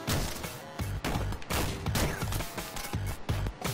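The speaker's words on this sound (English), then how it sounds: "Shotgun! I love the shotgun." Shotgun blasts in the video game Destiny, a rapid string of loud, punchy booms with sharp crashes roughly every half second, layered over dense combat noise with no talking.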